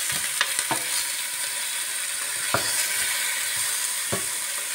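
Eggplants frying in a pan with a bright, constant crackling sizzle, broken by a few sharp clicks of a utensil moving them around.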